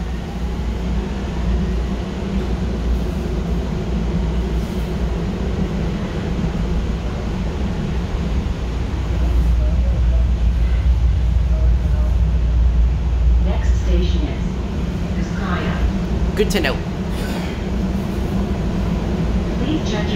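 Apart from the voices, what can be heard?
Miami Metrorail train riding between stations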